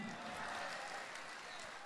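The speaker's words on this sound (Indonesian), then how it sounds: "Tepuk tangan buat Kamidi." Audience applause at an Indonesian stand-up comedy show, a steady broadband clatter of many hands clapping that stays loud and even for the whole short stretch.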